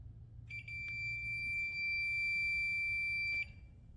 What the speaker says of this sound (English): it'll start beeping.